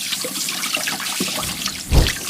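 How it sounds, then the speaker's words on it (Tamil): Water runs from a tap at a restaurant hand-washing sink, a close, uneven trickle and splash that swells into a louder gush near the end. "கை கழுவுறது இங்கே."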